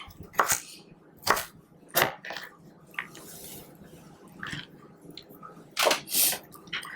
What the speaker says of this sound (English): For these smaller ends of the carrots, I'm probably only going to cut them once lengthwise